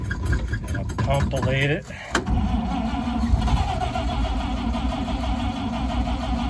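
A 1953 Chevy truck engine cranked by its starter, a rapid whirring crank that catches into a loud, steady idle for several seconds, with a brief voice heard early on.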